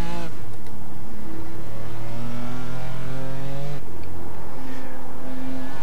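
A BMW M4 GT4 race car engine in the iRacing sim at Oulton Park revs loudly up through the gears, rising tones cut by upshifts, close and continuous.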